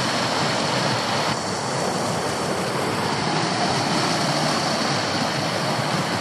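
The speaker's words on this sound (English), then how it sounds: "Look at the creek." A creek near an abandoned gold camp rushes past in a steady, loud, close wash of flowing water, with no voices heard.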